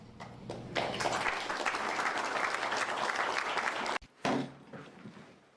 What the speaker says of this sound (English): people were like clapping for that shit too